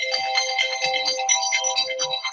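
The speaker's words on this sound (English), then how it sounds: "my phone blowing up" A phone keeps ringing with incoming calls, playing a bright, continuous electronic ringtone melody loud and close throughout, with no voices.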